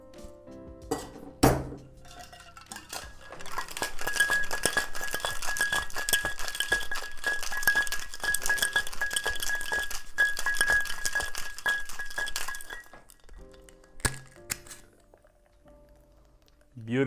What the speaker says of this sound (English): Now add ice to our shaker. And shake the cocktail for about 10 to 12 seconds.